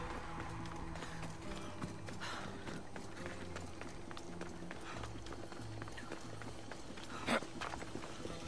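A horse's hooves pound in a quick, steady galloping rhythm in the video game Assassin's Creed Odyssey, close and continuous with faint game ambience and one brief louder clatter near the end.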